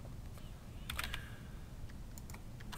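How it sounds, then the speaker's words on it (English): Quiet typing on a computer keyboard while entering a chart title in an Excel spreadsheet, a few soft clustered keystrokes over faint background hiss. "I'm going to type Frequency"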